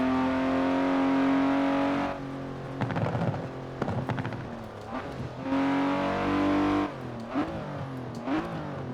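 A BMW E34 M5 engine in Forza Horizon 4 revs hard and high toward 7,000 RPM, rising and falling through several bursts with gear changes, loud and close, with no talking.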